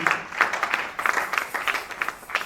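A church congregation applauds during a worship service, with rhythmic clapping that swells in repeated bursts and stays at a moderate, steady level.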